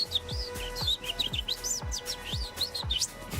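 A handheld bird whistle imitating bird song: a run of bright, warbling chirps and rising-falling tweets in quick repeated phrases, close and clear, with soft thumps underneath.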